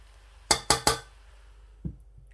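Metal utensils clink three times in quick succession against a dish while cooked white mutanjan sweet rice is served, followed by one softer knock. Each tap is close and crisp, and the background is otherwise quiet.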